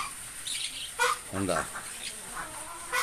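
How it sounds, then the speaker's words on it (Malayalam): Young chicks chirp in short, high, scattered calls close by, with a brief spoken word among them. "നമ്മളെ കോഴിക്കുട്ടികളാണത് കേട്ടോ"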